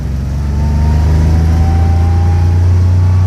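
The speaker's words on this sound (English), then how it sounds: "Second gear. You're winding out my car." A manual-transmission car held in second gear as it winds out, the engine revving loud and close with a steadily rising pitch.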